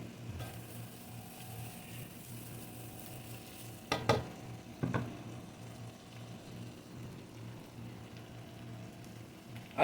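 Onions sauté in a covered pan for a goat leg tamarind stew, giving a steady low sizzle and hiss broken by two sharp metallic clatters midway.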